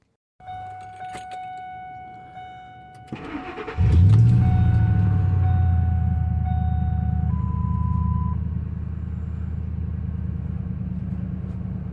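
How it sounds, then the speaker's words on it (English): A truck's engine turns over and settles into a steady idle, with keys jangling and cab clicks beforehand as the brakes are pumped; the idle rumbles loud and close, easing slightly toward the end. "We're going to jump in here, fire it up, and pump the brakes."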